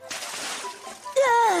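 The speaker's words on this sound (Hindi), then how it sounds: "हे, आपने मुझ पर पानी क्यों फेंका?" Water thrown at someone in an anime scene, a short broadband splash and splatter under a busy soundtrack, followed by a sudden loud voice reacting.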